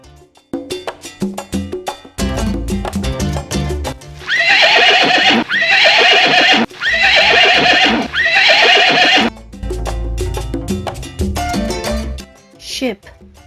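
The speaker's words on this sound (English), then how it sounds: "Horse." A horse whinnies in a loud, drawn-out neigh with steady clip-clopping hooves, set among short bursts of bright musical tones from a farm-animal word-card matching game.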